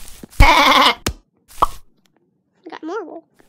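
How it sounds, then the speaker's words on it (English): A video-game sheep gives one short, wavering bleat near the end, heard alone after a few moments of a person talking. "Oh, look. Another sheep."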